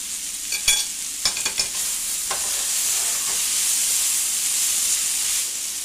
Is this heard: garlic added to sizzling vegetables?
yes